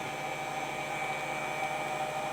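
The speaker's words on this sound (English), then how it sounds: "with a hairdryer sticking in it, set on low" Steady whooshing drone of a hair dryer on a low setting blowing into a box, continuous and close, with a faint whine on top.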